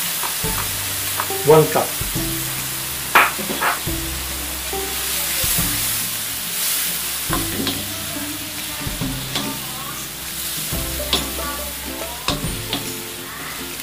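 Chopped tomato concassé hits a pan of reduced wine sauce, sizzling steadily while a spoon scrapes and stirs in repeated strokes; a voice briefly speaks over the frying.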